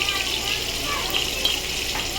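Water hitting a hot pan of frying prawn masala gives a loud, continuous hiss and gush that stays even for a couple of seconds.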